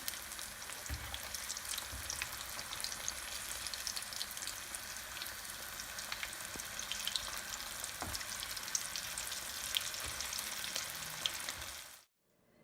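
Onions fry in a hot pan for chili paneer, giving a steady, dense sizzle and crackle throughout with occasional stirring scrapes, close and continuous until it cuts off abruptly near the end.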